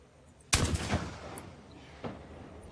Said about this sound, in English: There's another guy down there, so I'll pull out my ranged weapon. I'll see if headshots work.